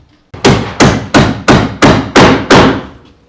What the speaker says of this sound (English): go ahead and start hammering it out